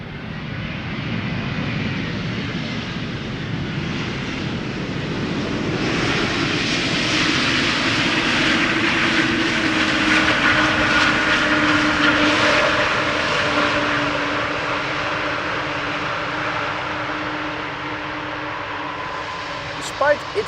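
An airliner that began flying in January 1999 roars steadily at Amsterdam Schiphol Airport, a loud, sustained engine drone that swells in the middle and holds, with a brief clatter at the very end.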